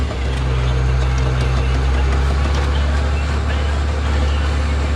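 A John Deere 7700 tractor in original paint runs with a steady, loud low engine drone that holds constant throughout, close by, with no change in pace.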